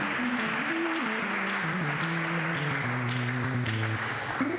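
A church congregation applauds steadily at a solemn convocation as the bishop approaches, a sustained wash of clapping mixed with a sung, sliding melody carried over it.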